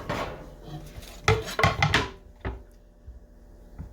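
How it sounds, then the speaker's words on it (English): Cheese from a block is chopped into chunks for mac and cheese, giving a few close knife knocks against a cutting board in short clustered bursts, with quieter scattered taps after. "So I am gonna chop this"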